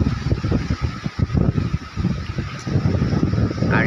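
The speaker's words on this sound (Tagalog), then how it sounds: "Grabe nga hangin." Strong wind buffets the microphone in continuous gusty rumbles, loud and close, with no speech, on a bike trail.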